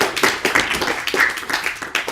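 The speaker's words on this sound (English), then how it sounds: "Let's give a big round of applause to them." Audience clapping at a house-warming gathering, a small group's hands beating in quick, uneven claps that stay steady and close throughout, with a little murmur underneath.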